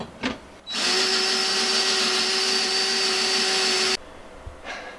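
A power drill bores steadily with a bigger bit to widen a hole during seat belt installation, a loud continuous whine holding for about three seconds before it stops abruptly.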